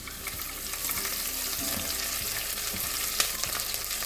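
Chopped green chilies fry in a pan for pasta, giving a dense, even sizzle with soft stirring clicks and one sharp tap near the end, close and continuous without any voice.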